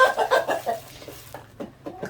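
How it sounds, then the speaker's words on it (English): Homestead laying hens cluck close by, a burst of several quick clucks followed by softer, scattered clucking calls, with no talking. "So these are my laying hens."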